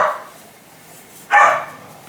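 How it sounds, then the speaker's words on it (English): A puppy makes two short, mid-pitched vocal bursts close to the mic. The first is brief at the very start, and a louder one comes after a quiet pause, with no talk over either. "that's the puppy growling"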